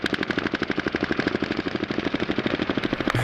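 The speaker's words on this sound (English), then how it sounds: "they're just walking down the alley shooting at nothing" Men firing guns while walking down an alley: a rapid, evenly spaced stream of loud automatic shots that continues without pause, close and dominant with no talk.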